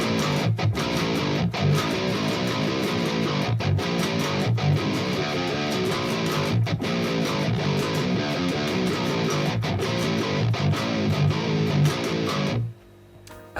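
Heavily distorted djent guitar riff switching between minor and diminished scale runs, loud and dense with chugging palm-muted accents, cutting off abruptly just before the end.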